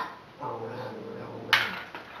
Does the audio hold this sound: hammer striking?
no